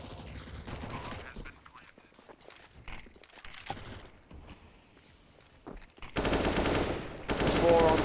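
Bursts of rapid automatic MAC-10 gunfire during a Counter-Strike esports match on dust2, scattered shots and footsteps early, then sustained loud sprays near the end over faint commentary.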